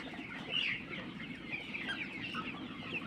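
Chickens cluck and squawk steadily on a 42-day-old colour bird poultry farm holding about 1,200 birds, a dense, busy flock chorus close by with no voices.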